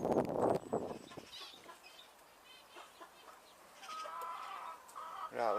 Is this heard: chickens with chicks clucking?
yes